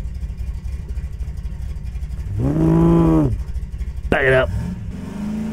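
An old Datsun car in Garry's Mod, its motor cranking to life and revving in a rising then falling whine, followed by a sharp second rev burst over a faint background hum, with a voice speaking briefly.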